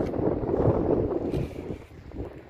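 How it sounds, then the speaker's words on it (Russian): Strong wind with wet snow buffets steadily outdoors at a used car dealership, with a dull rushing roar and rumbling gusts that slowly ease off. "у нас сегодня погода, сильный ветер, мокрый снег идет"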